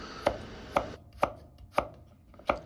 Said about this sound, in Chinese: 再來切萵筍，先改刀切成小段